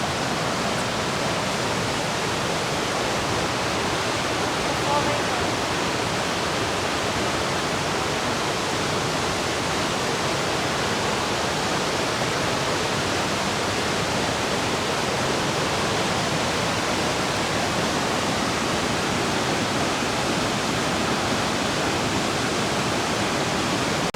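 Iguazu Falls roars with a dense, unbroken wall of rushing water, loud and close, holding steady throughout with no voices.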